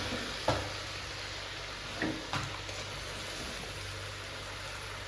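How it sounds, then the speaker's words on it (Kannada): Mango pickle cooking in boiling oil in a pan, a steady, loud sizzling hiss with a few clicks from a stirring spoon, close and without voices. "ಎಣ್ಣೆ ಒಳಗನ ಕುದಿಯಾಕೆ ಬಿಡಬೇಕು"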